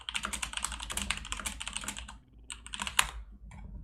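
Rapid typing on a computer keyboard, a quiet close flurry of key clicks that pauses briefly and resumes with a few sharper taps.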